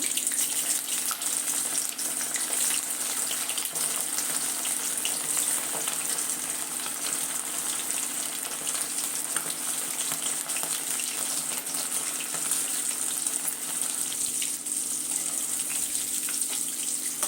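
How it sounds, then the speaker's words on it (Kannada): Chicken kebab pieces deep-frying in hot oil over medium heat, a steady hissing sizzle with watery bubbling that stays even and fairly loud throughout, with no voices. "ಮೀಡಿಯಮ್ ಉರಿನಲ್ಲೇ ಇಟ್ಕೊಂಡು ಈ ಥರ ಒಂದೊಂದೇ ಪೀಸ್ ಹಾಕ್ಕೊಂಡು ಕರ್ಕೊಳ್ಳೋಣ"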